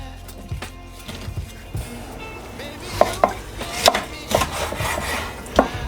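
Knife strikes chopping through raw chicken bone at the knuckle while preparing chicken for a chicken and rice dish: a run of sharp, close cracks and thuds, several spaced hits growing firmer near the end, with no talking.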